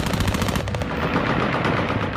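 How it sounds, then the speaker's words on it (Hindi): Rapid bursts of celebratory automatic gunfire from Taliban fighters in Kabul crackle in quick succession, loud and dense, with continuous reports overlapping into a sustained volley and no voices. "तालिबान हर्ष फायरिंग की यह तस्वीर"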